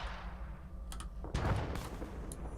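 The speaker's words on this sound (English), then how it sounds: "The CDF and the Russians are blowing each other up, as predicted." Distant explosions and scattered gunfire rumble and crack across a battlefield in the Arma 3 video game, with a heavier blast in the middle and intermittent shots, all sounding far off.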